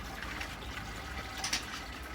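Homebrewed porter pours from a beer pump in a steady liquid rush, close and continuous with a brief splashy burst near the end, no voices.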